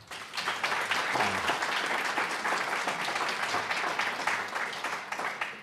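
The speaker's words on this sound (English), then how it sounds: "Let's give Jim one more round of applause." A conference audience gives a speaker another round of applause: a thick, sustained wash of many hands clapping, building quickly and holding steady at moderate loudness, with a faint voice murmuring briefly underneath.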